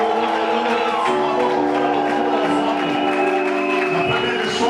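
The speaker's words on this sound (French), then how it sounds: "Est-ce qu'on peut les honorer par des acclamations?" Wedding guests at a religious ceremony cheer loudly and continuously for the newlywed couple, a dense crowd roar with whoops over sustained organ-like tones.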